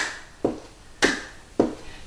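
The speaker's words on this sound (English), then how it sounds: "And as we march, I want you to clap your hands." Three sharp claps ring out at an even pace, crisp and close, with quiet between them.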